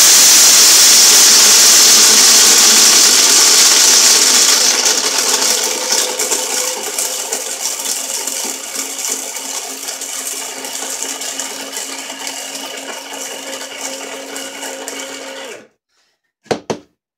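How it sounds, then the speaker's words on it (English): A countertop mixer grinds about three and a half cups of dry corn into cornmeal, a loud, steady whirring and rattling of kernels that gradually softens and evens out before stopping, followed by a brief clatter. "you basically want to go until you don't hear that clicking anymore. That means you got nice cornmeal"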